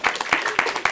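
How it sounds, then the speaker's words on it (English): A few sparse, distinct hand claps, around five in under a second, close and moderately loud, in an indoor gathering. "clap, clap."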